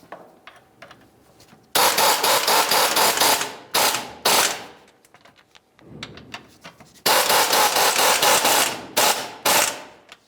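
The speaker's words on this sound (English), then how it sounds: "Let's use our T47 Torx bit to tighten these up" A T47 Torx bit driven by a power tool tightens transmission mount bolts on a 2000-2005 Buick LeSabre, giving two loud, sustained whirring-ratcheting bursts with shorter clicks and pauses between them.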